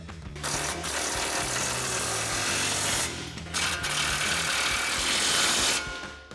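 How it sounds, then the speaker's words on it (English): A ratcheting wrench tightens a sway bar link nut on a Ford F-150 during a leveling lift kit install, loud and close with two bursts of continuous rapid clicking separated by a brief pause. "grab our ratcheting wrench and go ahead and tighten that down"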